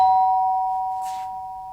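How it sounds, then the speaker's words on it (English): A doorbell rings once, a clear bright electronic tone that rings out steadily and slowly fades, with no voices over it. "Just then the doorbell went."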